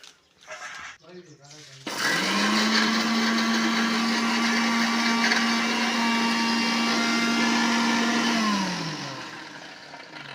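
A mixer grinder grinding chilies and cumin starts after brief clatter, whirs loudly and steadily for about six seconds, then winds down, with a voice talking over it.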